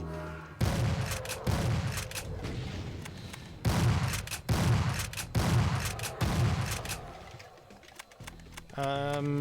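Heavy shotgun and rifle fire in the Doom video game comes in loud, close, repeated blasts with short gaps between them, and a voice speaks briefly near the end.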